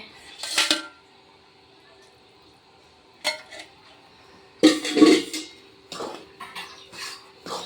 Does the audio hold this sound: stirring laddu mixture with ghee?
yes